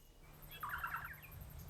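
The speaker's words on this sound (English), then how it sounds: "It is the saddleback, yet another remarkable New Zealand bird." Saddleback, a New Zealand wattlebird, gives a short burst of rapid chattering call notes, moderately close, over a low background hum with faint distant bird calls.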